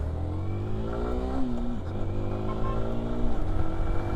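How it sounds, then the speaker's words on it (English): A Yamaha R15M motorcycle with a quickshifter accelerates on a test ride, its engine note rising and dropping through quick gear changes, loud and close, with no voices. "So just out with the R15 and taking it on a test ride now."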